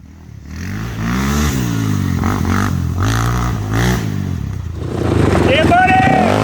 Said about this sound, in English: If you've got a good ear, you'll hear the clutch slipping throughout the competitions.